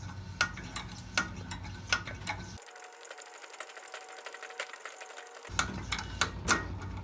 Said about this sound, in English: open up the pump, just like that, with the thumb placed over the hole. We're gonna pump it about